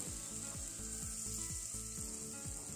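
Curry leaves fry in hot oil in a pan for a village-style country chicken rasam, giving a steady, soft sizzling hiss with a faint rhythmic low clatter underneath.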